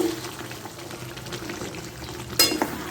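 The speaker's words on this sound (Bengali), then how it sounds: "এখানে মাটনটা কষানো হচ্ছে এই যে" Mutton sautéing in a pan for a Bengali curry, a steady low sizzle with stirring throughout, plus a brief louder scrape or clatter near the end.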